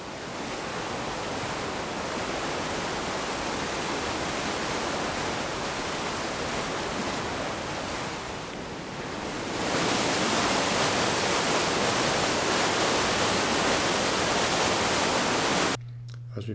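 Heavy rushing water pours from a power station outlet on the seafront, a steady loud broadband roar that swells louder partway through and continues without pause.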